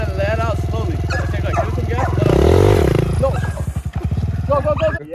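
Pit bike engine revving on a dirt track, close and loud, the pitch climbing and falling with throttle blips and a strong rise in the middle before it settles into a choppy idle.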